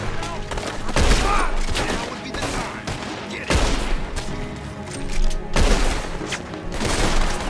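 Gunfire rings out in the video game Red Dead Redemption 2: loud bursts of shots hit at roughly one-to-two-second intervals, each blast followed by a rattling tail of echoes and debris.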